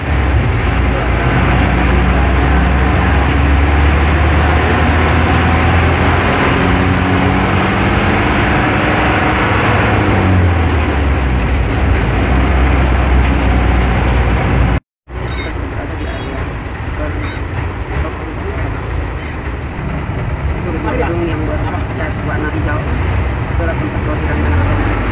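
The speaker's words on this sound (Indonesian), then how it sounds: "Lebih lalu lintas makin lancar dan tertib." Dense road traffic in central Jakarta makes a steady, loud roar of engines and passing buses and cars, with a brief cut midway before the same continuous rumble resumes.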